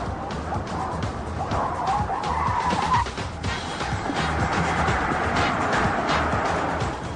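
Cars skid with squealing tires during driving safety and braking tests comparing an Audi A8 3.2 FSI, a BMW 730i and a Mercedes S350, giving a continuous rough, loud roar with tire squeal throughout.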